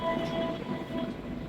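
Inside the Sawunggalih passenger train out of Kutoarjo, a steady rumble of running carriages rolls on with faint rail clatter and a low hum throughout.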